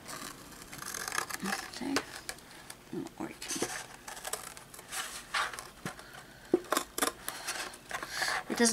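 Scissors snip and crunch through the bottom of a cardboard box in a string of close, uneven cuts with scraping and rustling between them.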